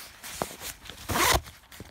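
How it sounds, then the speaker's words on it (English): A zipper on a Bottega Veneta nylon pouch wristlet is pulled in a few quick, close strokes, a crisp rasping zip with a light rustle of soft fabric and no talking. "it's a zipper."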